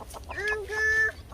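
A chicken in a farm flock that includes roosters gives a drawn-out, rising cluck-call at close range, two vocal bursts within a second over quiet outdoor background.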